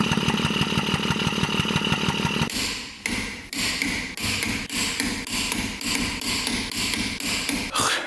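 The project truck's engine runs close by with a rough, choppy, motorcycle-like beat, a steady loud pulsing idle, then a brief dip before it returns in regular chugging bursts.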